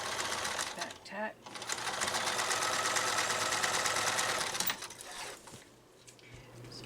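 A sewing machine back tacks a seam on a DIY pocket filter mask, running in a steady fast close hum before slowing and stopping, with a voice talking over it.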